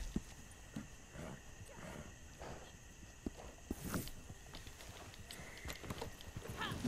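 Horse hooves clip-clop in Red Dead Redemption 2, an irregular run of soft thuds and clops with some faint background noise and no talk.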